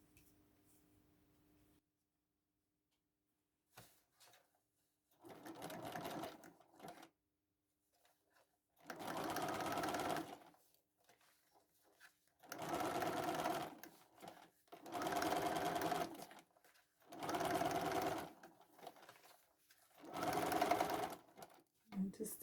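A sewing machine stitches a fabric bowl cover with elastic, running in several loud bursts of a few seconds each, separated by pauses, with quiet talk between runs.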